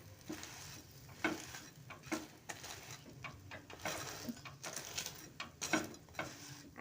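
An egg roll frying and being flipped in a pan, with soft sizzling under a series of irregular scraping and tapping knocks from the turner against the pan, close up and without voices.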